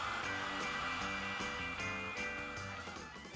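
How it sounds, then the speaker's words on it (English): A hairdryer runs steadily and loudly at close range, a continuous whirring hum with a rhythmic, slightly pulsing rattle, and nothing else competing with it. "A hairdryer."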